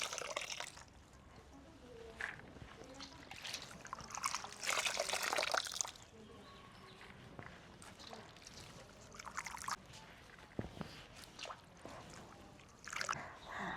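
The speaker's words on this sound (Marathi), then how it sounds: "पाणी नितरण्यासाठी ठेवूया जाळीच्या टोपल्यात ठेवतोय आम्ही म्हणजे पाणी नितळून जाईल" Water trickles and drips steadily from washed spring onion greens draining in a mesh basket, with a louder splashing rush partway through, close by and without voices.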